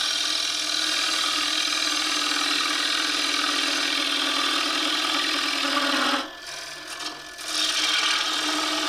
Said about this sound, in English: Every cut I'm doing, I'm trying to get used to that bevel of this tool.